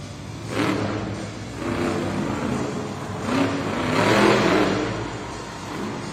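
Monster truck engine roars and revs in swelling waves at an arena event while the truck backs up a ramp, a loud sustained rumble rising and falling several times.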